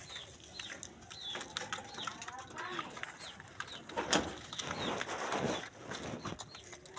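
Pigeons coo softly and flutter their wings in a quiet, close setting, with scattered wingbeats and rustling and a louder flap burst midway, under faint background murmur.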